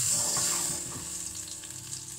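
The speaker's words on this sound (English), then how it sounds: "I'm going to give the onions a little bit more time to" Onions frying in a pan for chilli con carne give off a loud, steady sizzle that stays constant and close throughout, with no voices.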